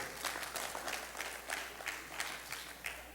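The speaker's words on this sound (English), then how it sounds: "y'all ought to clap your hands right there" A church congregation claps along during a sermon, a quiet rhythmic pattern of hand claps repeating at a steady pace in a reverberant room.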